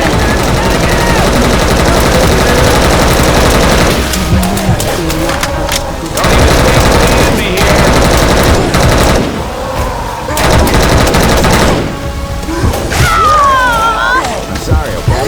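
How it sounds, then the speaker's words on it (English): Loud, sustained machine gun bursts and scattered gunshots in a combat video game, with booms and brief pauses, under shouted voices and game chatter. "Don't stop shooting!"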